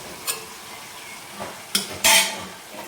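A utensil stirs ponnaganti greens (sessile joyweed) frying in a pan, making soft sizzling with a few sharp scrapes and clinks of metal against the pan, the last one loudest, with no talking.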